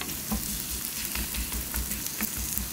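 Radish pancake frying over medium heat in a pan, a dense, close crackling sizzle that stays even and continuous with small popping bursts.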